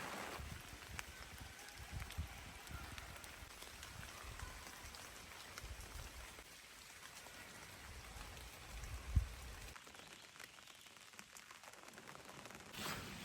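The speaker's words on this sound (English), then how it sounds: "Rain is still coming down pretty strong." Steady rain falls on a truck campsite near the border, a continuous soft patter with a few louder drops and knocks, quiet and unbroken with no voices.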